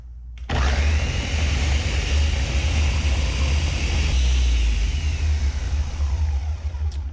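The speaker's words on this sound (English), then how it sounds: "now I've transferred the soup mixture into the blender, and we're going to puree it" A blender roars loudly and steadily for several seconds after a brief pause, its motor whine dense and constant as it purees a chilled asparagus-avocado soup.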